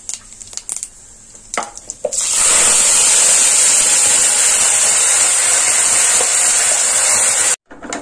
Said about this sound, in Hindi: अब इसमें मैंने ये हींग है और जीरा है, इसका तड़का लगाऊंगी।